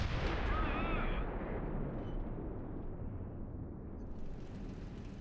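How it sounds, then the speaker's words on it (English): Heavy bomb explosions in the War Thunder video game, a loud rumbling blast at the start that decays into a long, low roar, heard from a tank battle. "Look where those bombs hit."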